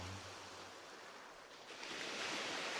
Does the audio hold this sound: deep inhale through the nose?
no